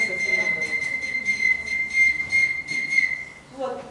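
A clay whistle holds one steady, shrill high pitch for a few seconds, with a slight warble, then stops abruptly.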